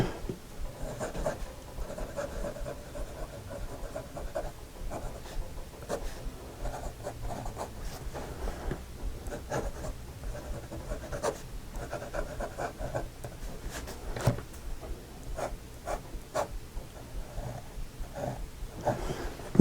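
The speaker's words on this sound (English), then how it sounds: "This nib is wet. You can hear from the sound that it's fairly smooth." A vintage Waterman 55 fountain pen with a wet, bent nib writes on paper in a steady scratchy rustle, soft and close, with small ticks as strokes start and stop, no voices.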